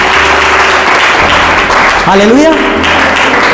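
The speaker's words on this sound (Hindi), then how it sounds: "हाँ, बजा रहे ताली पूरा बजाइए।" Congregation clapping hands at a Hindi-language church prayer service, a dense continuous wash of applause running throughout, with a preacher's voice and a sung exclamation rising over it.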